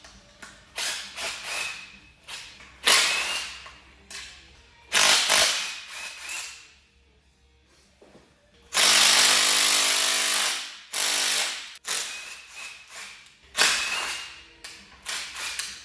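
Close, rapid ratcheting bursts from a power tool loosen valve cover bolts on a 347 engine in a Fox Body Mustang, repeating in short runs separated by pauses and clanks.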